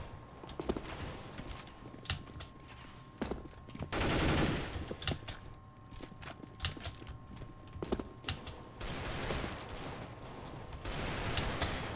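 Gunfire in CS:GO: rapid, sharp shots ring out in scattered bursts and single cracks over a quiet background, with one longer burst of sustained fire in the middle.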